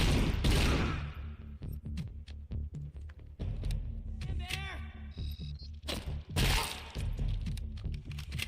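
Rapid gunfire from RoboCop: Rogue City comes in dense bursts of sharp cracks, with breaking and shattering debris and a whining tone mid-burst, loud and close throughout.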